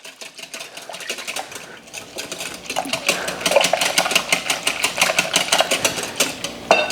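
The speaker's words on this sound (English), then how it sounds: "So we're going to mix that all together." French toast batter of confectioner's sugar and a pinch of salt being mixed, a steady whirring, buzzing machine-like mixing sound at close range with rhythmic fluctuations, no talking.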